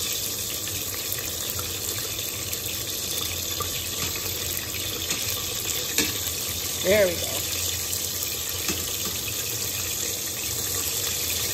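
Food fries loudly in hot oil for a simple summer dinner, giving a steady, close sizzling hiss throughout, with a brief spoken remark near the middle.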